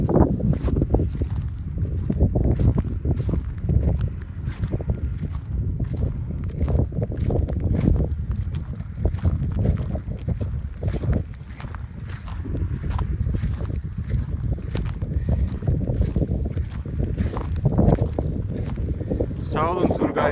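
A John Deere 5095 tractor plowing a field drones steadily close by, engine rumbling, with wind buffeting the microphone and a few scattered knocks and clatters over the continuous low noise.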